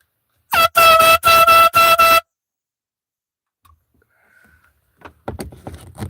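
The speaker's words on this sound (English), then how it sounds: "Air horn power." Small can of Big Yeller air horn in a garage: four loud, close, brassy blasts in quick succession, then near silence with faint clicks and rustling.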